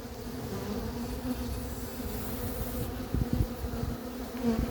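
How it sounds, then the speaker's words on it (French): Dense, steady buzzing of many honey bees up close from a bee package in a cardboard box, with a few soft thuds and handling sounds toward the end. "Le paquet d'abeilles est encore dans le carton"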